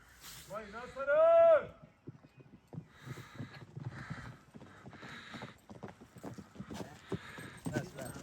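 A mare carrying a rider arrives at a rural farmstead, her hooves clip-clopping in a steady rhythm after a loud whinny, while several people talk nearby.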